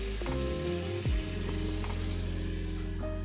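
Mutton and potato pieces fry slowly in a pan on low gas for a Bengali mutton curry, giving a steady, even sizzle over a tonal background with no voices.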